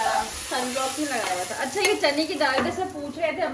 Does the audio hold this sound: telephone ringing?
no